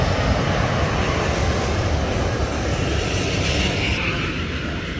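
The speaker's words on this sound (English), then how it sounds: "It was interesting to see the plane up close" A low-flying airplane passing over a beach, its engine roar loud and continuous, fading slightly toward the end.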